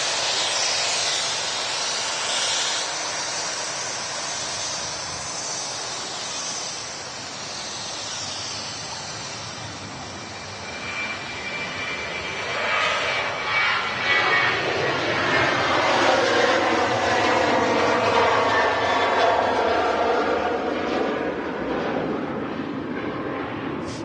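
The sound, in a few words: aircraft taxiing to Terminal 2 at Manchester Airport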